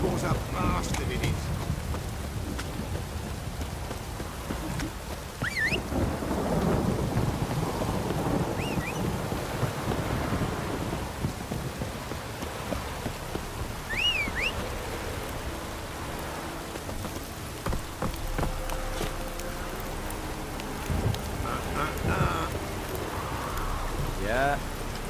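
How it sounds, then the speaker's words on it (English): Heavy downpour in The Witcher 3, a broad steady hiss of rain with occasional rumbles, running continuously while voices talk over it. "This downpour's a bastard, it is."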